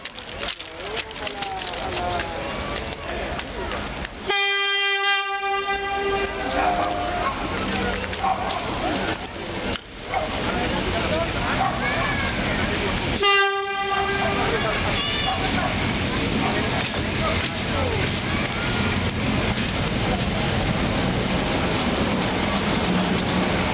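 A train runs through a station without stopping during a 150th-anniversary railway celebration in Martorell, a continuous loud rumble and rush lasting throughout, with two sustained horn blasts and crowd chatter mixed in.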